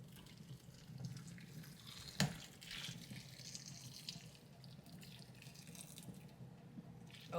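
Melted liquid pours from a pan over meat in a home kitchen, making a faint, steady trickling and splashing with one brief clink partway through.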